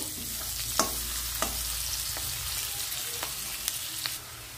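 Chopped onion and green chilli frying in a pan with garlic, a steady hissing sizzle punctuated by sharp clicks of a spatula stirring against the pan, easing off at the end.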